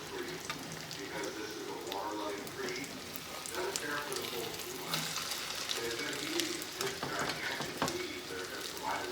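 Cornmeal-coated fish fries in a pan, sizzling steadily with crackling pops and splatter close up, while a voice talks over it.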